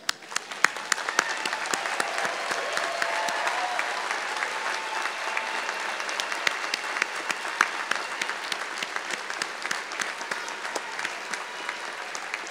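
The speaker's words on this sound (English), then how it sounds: "let's give them all a round of applause" Sustained applause for doctoral graduates at a hooding ceremony, a dense, even patter of many hands clapping that holds steady at moderate volume throughout.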